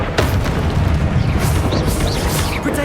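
Confringo explosion spell going off in the Hogwarts Legacy video game, a loud, dense booming blast with crackling bursts continuing throughout.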